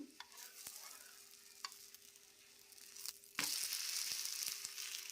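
Sweet corn dosa frying in a little oil on a pan, a soft steady sizzle with scattered sharp ticks and scrapes, growing louder and brighter midway as it is turned.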